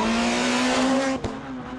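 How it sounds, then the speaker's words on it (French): A Peugeot S2000 rally car at full throttle on a rally stage, its engine holding a steady loud drone with a brief sharp change near the end, heard close with no talk. "Bataille de Peugeot en S2000 où Brian Bouffier mène les débats"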